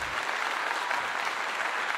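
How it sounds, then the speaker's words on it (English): Thick, continuous crowd applause rolls on at an even, loud level throughout, a sustained wash of many hands clapping as a salute to a channel supporter. "I got to give you a clap"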